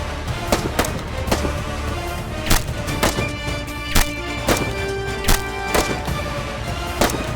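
Paint pellet gun firing in a TV drama scene, a series of sharp cracking shots at uneven intervals, some louder and closer than others, over a low background bed.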